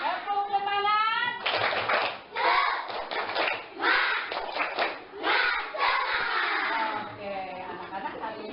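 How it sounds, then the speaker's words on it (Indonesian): Grade 4 schoolchildren at SDN 4 Cicurug perform a spirit clap in the classroom, a patterned run of rhythmic group clapping mixed with chanting voices, after an adult voice leads in. "Tepuk semangat."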